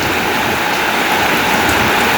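Rainwater in bad weather running down the wall of an old house under refurbishment, a loud, steady broadband rush and patter close by, continuous with no voices.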